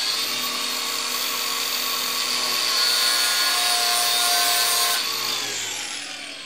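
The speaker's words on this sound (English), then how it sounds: "I'm going to make a like cut with the grinder" Angle grinder cutting into a hydraulic hose: a loud, continuous high-pitched grinding whine with a strong metallic edge and steady harmonics, running for several seconds before easing off slightly near the end, with no talking.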